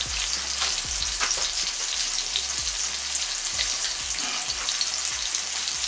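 Soy sauce for a teriyaki sauce sizzles in a hot pan, a steady close bubbling hiss with soft periodic stirring scrapes and low thuds throughout, no voices.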